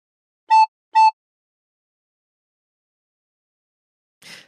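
Two short, identical recorder notes are blown one after the other at the same pitch, clean and close, playing part of We Wish You A Merry Christmas. After a pause comes a faint, breathy puff of noise.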